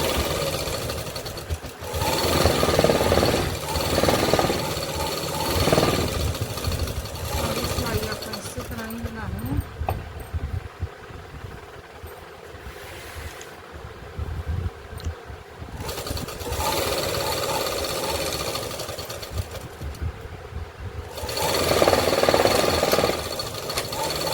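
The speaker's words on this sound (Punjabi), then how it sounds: "ਇਹ ਆਪਣੀ ਨਾਲੀ ਦੀ ਸਿਲਾਈ ਲਗਾਉਂਦੇ ਆ" A sewing machine runs in repeated bursts while stitching the waistband casing of a palazzo, a rattling motor whir that starts and stops, with someone talking over and between the runs.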